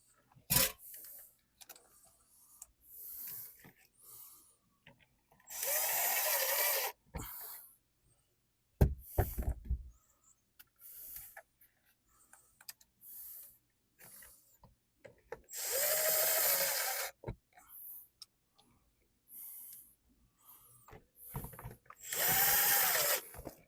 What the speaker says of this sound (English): we're going to go ahead and get these screws put back into it